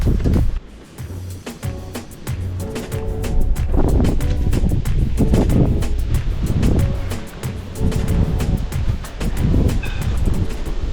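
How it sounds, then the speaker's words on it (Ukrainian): Strong wind roars and buffets against the microphone in continuous heavy gusts, loud and rumbling throughout, at a roof scaffolding build. "дуже сильний вітер"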